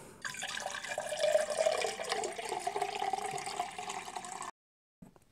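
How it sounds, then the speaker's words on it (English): Water running out of a measuring burette through its tap in a steady close trickling stream for several seconds, then abruptly stopping, followed by a faint brief knock. "let the water out till it goes down to exactly the zero mark"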